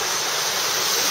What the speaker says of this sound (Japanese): この横がもう全部滝です。